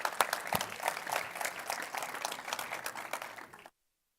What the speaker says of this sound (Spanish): Último aplauso